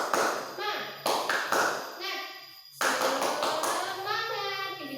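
Schoolchildren in a classroom clapping a rhythmic 'tepuk semangat' pattern in short bursts of sharp claps and taps, mixed with children's voices calling out between the beats.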